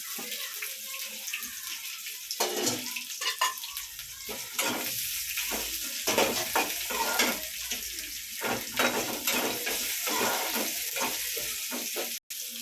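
Sliced onion frying and being stirred in a pan for a banana-stem kootu, steady sizzle with repeated scraping stirs close by, no voices.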